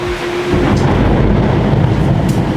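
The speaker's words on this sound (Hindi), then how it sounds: "काफ़ी बारिश हो रही है, बहुत तूफानी बारिश है।" Heavy stormy rain pours continuously outdoors during a storm, a loud dense wash of noise with a deep rumbling low end filling the whole stretch, no voices.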